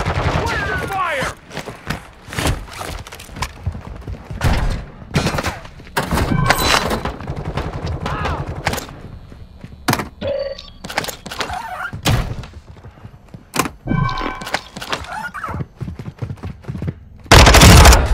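Gunfire in a Call of Duty DMZ firefight, with loud sharp shots and rapid bursts in irregular clusters, heavy thuds mixed in, and game voices and radio chatter between the volleys.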